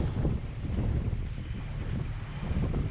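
A strong following wind of about 24 knots roars steadily over a sailboat offshore in heavy seas on an overnight passage from Sardinia to Sicily, a dense continuous rush of wind with a low rumble and no voices.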